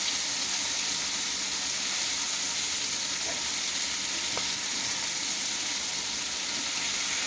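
Onions sautéing in a pan for a Kerala-style curry give off a steady, close sizzle and fry hiss throughout, with a faint stir or clink partway through.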